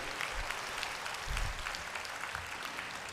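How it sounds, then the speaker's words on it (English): Audience applause fills a convocation hall, a steady wash of many hands clapping at once that holds evenly from start to end with a slight swell in the middle. "Please applause and clap your hand that you are here."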